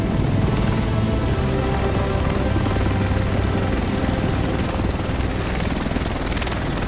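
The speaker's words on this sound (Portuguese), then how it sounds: "O resto de nós deve estar nesse helicóptero." A helicopter arrives in The Division video game, a steady, loud rotor roar filling the whole stretch without letup and with no talk over it.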